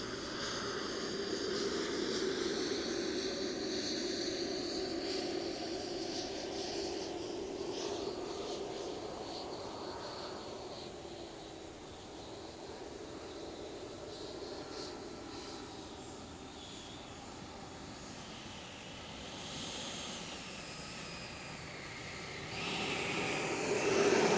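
An FMS Avanti 90mm electric ducted fan RC jet whines steadily at high pitch, its tone sweeping up and down as it passes and turns, moderately loud with some wind noise and swelling louder near the end.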